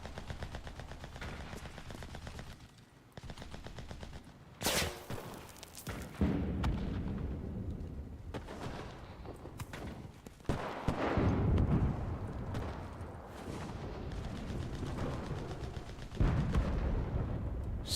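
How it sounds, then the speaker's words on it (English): Artillery and gunfire in the WWII shooter game Enlisted: heavy booming shots and bursts of firing land at intervals over a constant rumbling battle backdrop, fairly distant and muffled. "Artillery! Fire at the square! Show no mercy!"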